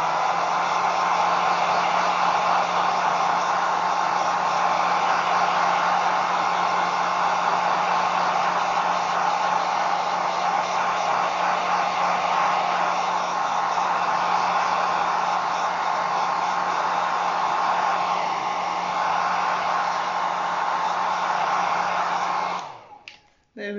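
A hair dryer blows steadily and close for about 23 seconds, drying a layer of paint on a slate coaster, then cuts off abruptly at the end.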